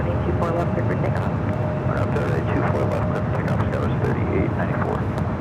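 A Boeing 787 Dreamliner arrives on runway 24 left at LAX, a continuous heavy jet roar and rumble filling the scene, with voices talking faintly underneath.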